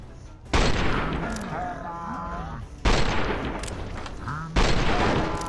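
Gunfire and a grenade blast in a modded Fallout New Vegas firefight, with three loud broadband bursts cutting in over a steady din of shots, while voices talk and shout through the background.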